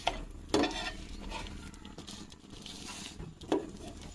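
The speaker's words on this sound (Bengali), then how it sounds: "আমরা আজকে রুটি ভাজবো হচ্ছে ঘি দিয়ে, আড়ঙ্গের ঘি।" A roti frying in Aarong ghee on a pan, a soft, steady sizzle with two sharper scrapes of a spatula pressing and turning the bread.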